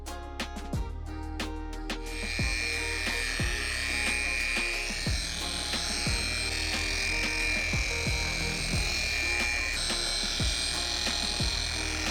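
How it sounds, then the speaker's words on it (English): A rotary polisher with a wool pad buffs fresh paint after sanding up to 2000 grit. It gives a steady, moderately quiet motor whine with faint recurring thumps of the pad against the panel over about twelve seconds. "I just finished hitting it with a wool pad to get all the scratches out from sanding it"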